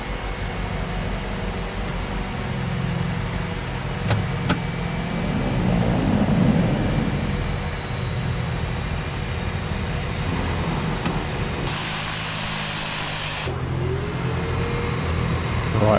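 The turboprop engines of a DHC-6 Twin Otter in Microsoft Flight Simulator 2020 run with a steady droning roar, swelling briefly midway, with a short whining tone near the end and no talk.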